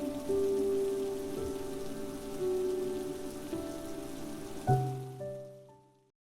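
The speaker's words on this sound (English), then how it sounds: "the rain started to pour heavily" Steady rain pouring down in a continuous hiss, with sustained musical tones over it that fade out at the end.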